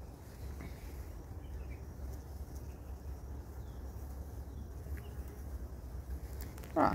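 Honeybees hum softly around an open top bar hive where fresh comb is being built, a steady low drone that fills the whole stretch without pause, with faint background noise and a brief knock near the end.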